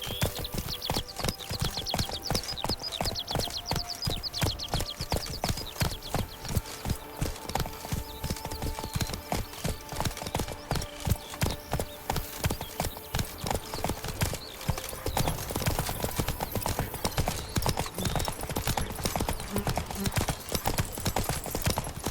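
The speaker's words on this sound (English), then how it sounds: "Whoa there, Roach" Horse hooves clip-clop steadily in The Witcher 3 game, a dense run of rhythmic hoofbeats with occasional snorting or whinny-like sounds, fairly faint against game ambience, with no talking.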